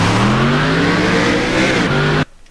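Race car engine in a stock-car racing video game, revving hard as the driver guns it, a loud sustained roar with rising pitch lines that cuts off abruptly near the end.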